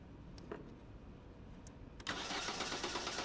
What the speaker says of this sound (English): And there you go, the car is cranked.